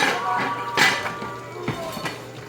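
A lid is set onto a stovetop pot of curry chicken, giving a few short metallic clinks and clanks with quiet kitchen background between them.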